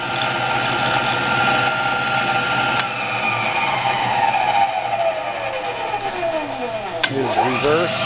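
A Vectrax 20-inch drill press runs forward at high speed with a steady mechanical whine and hum close by, its pitch sliding downward as the spindle speed shifts; a light tick sounds near the end.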